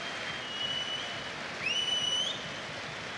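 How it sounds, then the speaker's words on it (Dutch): A stadium crowd at an FC Twente versus AZ football match applauds an injured player, a dense, steady wash of clapping that swells briefly, with high whistles riding above it. "En gaat nu onder luid applaus richting zijlijn."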